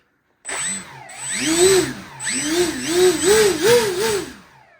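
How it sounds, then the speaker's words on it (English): An electric motor on an EF X racer RC plane spins up and down through several throttle bursts, a close, loud whine that rises and falls in pitch before winding down to silence. "Just give you a bit of a throttle check."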